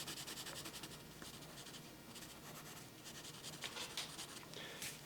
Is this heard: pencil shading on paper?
yes